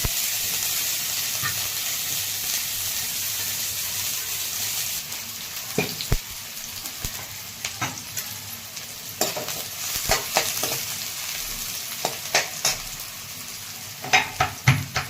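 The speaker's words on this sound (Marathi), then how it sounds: "आपण आता तेल टाकायला ठेवून घेतलेलं आहे. तर आपण आता ह्याच्यामध्ये कांदा कट करून घेतला ते टाकून घेऊ." Chopped onion frying in hot oil, a steady close sizzle throughout with scattered sharp scraping and clinking knocks from stirring, growing busier toward the end, no talking.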